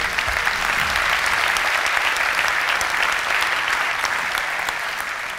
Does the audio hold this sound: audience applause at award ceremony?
yes